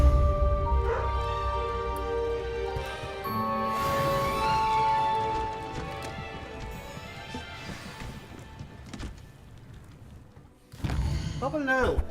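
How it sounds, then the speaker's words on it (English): A dog barks in the video game Hogwarts Legacy, scattered yips and barks mixed with game sound effects and character talk, ending in a louder burst of noise. "What are you barking at?"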